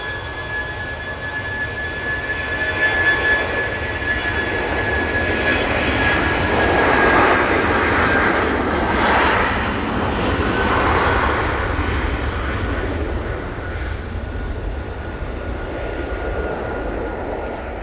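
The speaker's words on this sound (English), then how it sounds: "Eurowings now on the spool up." Engines on a Eurowings jet bound for Stuttgart spool up at Manchester Airport, a whine and swelling roar building to a loud peak midway before easing slightly, with no talk over it.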